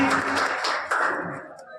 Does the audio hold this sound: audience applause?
yes